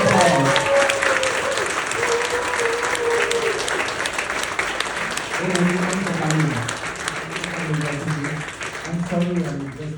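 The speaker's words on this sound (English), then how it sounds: "Okay, let's give him a big round of applause." An audience at a magic show in Singapore gives a big round of applause, a dense, sustained clapping that stays strong and even from start to finish, with voices rising over it.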